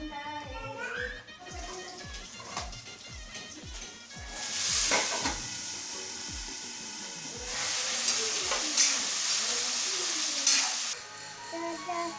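Cauliflower and bean curry cooks in a pan, first with a run of rhythmic scraping strokes from stirring, then loud hissing sizzle bursts that swell and hold before dropping away.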